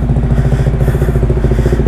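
A Bajaj Dominar 400 single-cylinder motorcycle engine runs steadily up close, a loud, even low throb with a rapid regular pulse and mechanical clatter, no voices over it.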